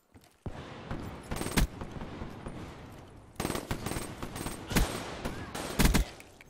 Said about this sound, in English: Everyone's shooting him.